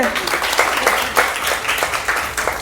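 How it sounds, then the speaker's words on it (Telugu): Children clap together in a group, a brief ragged burst of applause alongside a talking voice. "నీకు చప్పట్లు కొట్టండి"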